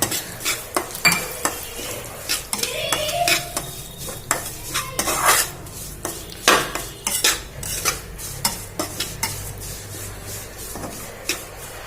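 Grated dried coconut, chironji and sesame seeds are dry-roasted in a kadhai for bajra laddoos, with an irregular run of metallic scrapes, clinks and knocks from the stirring spoon against the pan over a faint low sizzle.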